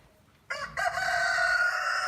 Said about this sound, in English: This is perfect attack by the chicken.